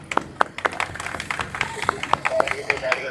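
Scattered handclaps from an audience at a traffic police helmet awareness event in Vijayawada, irregular and fairly close, mixed with crowd chatter and voices throughout.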